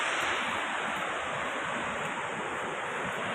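Mallalli waterfall reached by a long stairway in a forested valley, a steady broadband roar of falling water with wind buffeting the microphone, constant and fairly loud with no voices.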